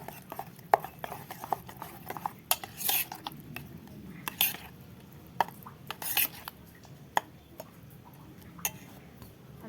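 A spoon clinks and scrapes against a bowl while tomatoes are stirred into yogurt raita, a sequence of irregular sharp taps and knocks close by, spaced over a soft background.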